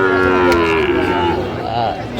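A Sahiwal cow lets out a loud, close, drawn-out moo at a busy livestock market, one sustained call lasting about two seconds.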